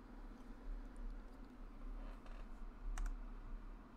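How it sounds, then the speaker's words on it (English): Faint computer keyboard typing, with scattered soft key clicks and a couple of sharper taps near the end over a low background hum. "can't figure out how to type with my keyboard apparently in this game."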